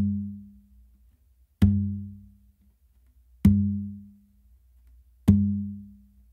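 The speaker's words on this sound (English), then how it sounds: "when you're gonna do that bass on the Bingba with your non-dominant hand, you're also going to be doing the open with your dominant hand on the tumba" Three conga strokes, each pairing a low bass hit on the bingba with an open tone on the tumba, struck alone at an even slow spacing and ringing out between hits.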